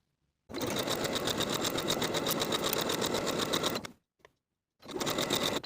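Sewing machine sewing hoodie sleeves to the front bodice with a 3/8 inch seam allowance, running in a steady close burst of about three seconds, stopping with a tiny tap, then starting again.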